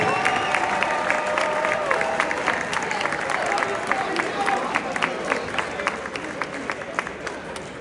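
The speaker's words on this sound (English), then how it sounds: "Let's give one more round of applause to our senior in" An audience at a high school football banquet applauds seniors, a sustained wash of many hands clapping with scattered cheers at moderate distance, tapering slightly toward the end.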